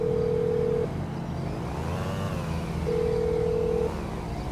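A phone in the video game GTA 5 dials a number, giving two steady electronic tones about three seconds apart with a warbling sound between them, all over a low background hum.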